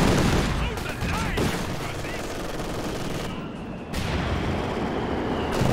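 Continuous battlefield gunfire in Company of Heroes 2, rattling machine-gun bursts and shots overlapping with booming impacts, dense and steady, with a brief lull near the end.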